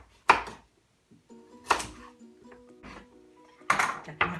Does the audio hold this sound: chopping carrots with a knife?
yes